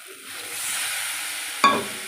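Spice masala with chili powder being stir-fried in a pan with a splash of water for vegetable khichuri, a steady soft sizzle that swells briefly near the end with a sharp hiss as liquid hits, no voices.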